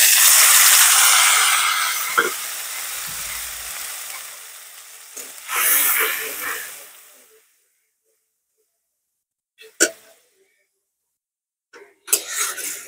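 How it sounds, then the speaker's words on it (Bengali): Green chili and onion paste hits hot oil for a Bengali raw banana and papaya fish curry, giving a loud, bright sizzle that fades over several seconds, followed by a few short clatters of utensils near the pan. "ওই তেলেই আমি দিয়ে দিচ্ছি কাঁচা লঙ্কা আর পেঁয়াজ পেস্টটা।"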